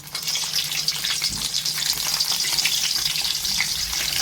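Stuffed bitter gourds (karela) filled with keema frying in oil, a loud continuous bright sizzle with a dense crackling hiss that holds steady from start to finish, close up with no voices.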